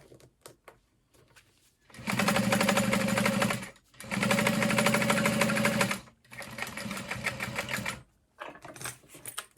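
A sewing machine stitches handbag seams in three close bursts of fast, even mechanical clatter separated by brief pauses, with faint handling noise around them and no talk.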